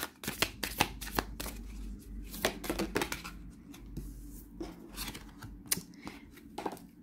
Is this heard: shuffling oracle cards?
yes